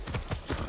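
Horse hooves clip-clop in a steady rhythm as a horse is ridden in the video game Far Cry 6, with close, dull thuds over a busy game background.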